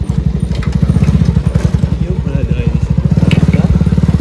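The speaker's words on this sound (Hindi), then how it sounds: "मेरी बाइक का साउंड काफ़ी लाउड है" Loud motorcycle engine running steadily on a mountain road in Ladakh, near Kargil, its rapid regular exhaust pulses thumping close and continuous throughout, with a faint voice briefly under it.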